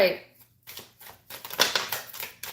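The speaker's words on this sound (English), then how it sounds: "I shuffled this." Tarot cards are shuffled in short riffling, rustling bursts that come in a loose rhythm, close and moderately loud, with a brief pause near the start.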